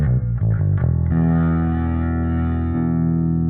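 A heavily distorted electric guitar through a Neural DSP Quad Cortex with no low cut applied rings out, a few choppy notes followed by a long sustained chord with a full, boomy low end.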